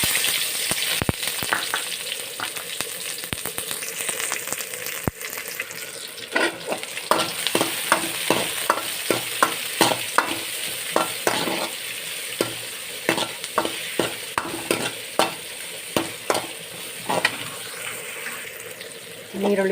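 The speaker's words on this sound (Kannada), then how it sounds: "ಇತ್ತ ಎಣ್ಣೆ ಬೆಚ್ಚಾಂಡು ಇತ್ತ ನೆಕ್ ನೀರುಳ್ಳಿ ಪಾಡೋಣ" Chopped onions sizzle and crackle as they fry in hot oil in a pan, with repeated stirring clicks and scrapes running steadily throughout, close up and fairly loud.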